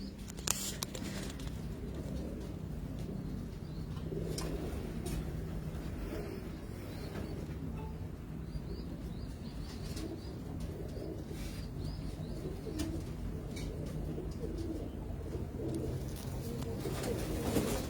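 Pigeons coo steadily at close range in a loft, with low rolling calls layered throughout, soft chirps and a faint patter of movement.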